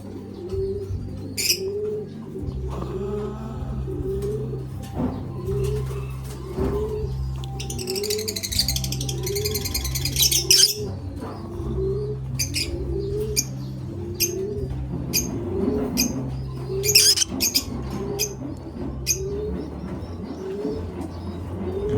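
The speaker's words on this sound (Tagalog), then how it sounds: "So si Keps, ito yung una kong ibon." A bird coos repeatedly in a steady, rolling rhythm, close by, with occasional chirps and a brief flutter of wings.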